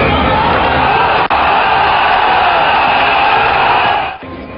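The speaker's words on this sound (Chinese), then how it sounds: "掌声和欢呼声中" Crowd at a boxing event in a sports arena applauds and cheers in a loud, continuous roar for about four seconds, with brief dips near the start and end.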